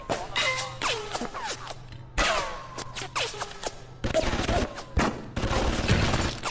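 Gunfire in the video game BioShock comes as repeated sharp bursts of shots, some echoing, spread across several seconds with short gaps between volleys.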